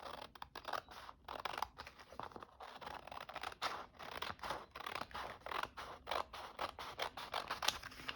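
Scissors snip through paper along a pencil line in a crafting session, a quick steady run of crisp close cuts and rustles, quiet and without any voices.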